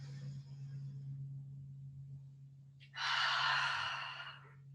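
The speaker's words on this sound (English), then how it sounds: "Take a full inhale in through your nose. Exhale out your mouth." A single exhale out through the mouth during a gentle morning yoga breathing exercise, a soft breathy rush close to the microphone after a quiet pause, over a steady low hum.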